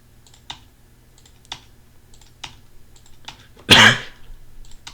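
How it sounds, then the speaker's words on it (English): A single loud, close cough bursts out near the four-second mark, set among soft, evenly spaced keyboard key presses at a computer during font glyph work. "I've been coughing very much"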